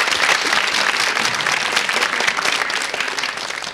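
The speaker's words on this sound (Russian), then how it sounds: "Аплодисменты." Loud, dense clapping from a TV game show studio audience, continuous and full from start to finish, easing slightly at the end.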